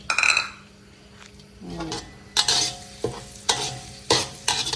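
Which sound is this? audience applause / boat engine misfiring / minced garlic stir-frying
minced garlic stir-frying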